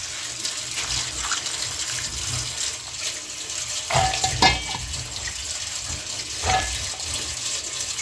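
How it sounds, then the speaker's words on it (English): Green maize being washed in water makes soft sloshing and splashing with a few louder swishes and drips over a steady faint background, no talking. "So we wash our maize, then as we wash, we already put our water to boil."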